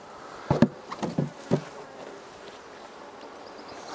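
Honeybees hum in a low, steady drone in an open hive, broken early on by a handful of soft knocks and clunks close by.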